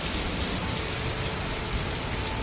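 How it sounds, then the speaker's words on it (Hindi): Heavy rain with hail pounding down in Bihar, driven by strong wind, a steady dense roar of drops hitting surfaces throughout with no break. "बिहार में बारिश के साथ साथ ओले भी गिर रहे हैं"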